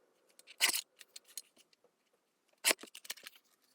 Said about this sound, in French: Et je n'ai plus qu'à couper.